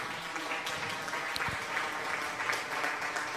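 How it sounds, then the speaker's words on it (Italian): An audience applauds in a steady, dense wash of many hands clapping, loud and continuous throughout, with no voice over it. "Vai, applausi."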